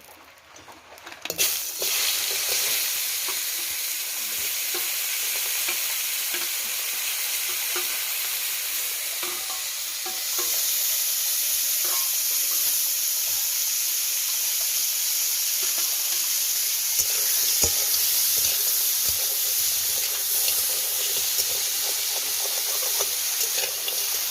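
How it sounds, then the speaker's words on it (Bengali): Live crabs frying in very hot oil in a wok, a loud steady sizzle that surges and stays dense throughout, with occasional faint clinks of a utensil. "এবার আমি কাঁকড়াগুলোকে ফ্রাই করে নেব।"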